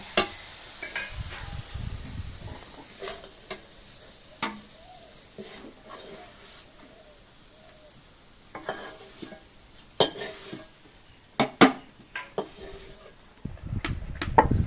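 A cooking pot holding a thick maida and coconut milk mixture is handled on the stove, with scattered metallic clanks, a spoon scraping and stirring, and faint sizzling between sharper knocks, ending in a louder rattle.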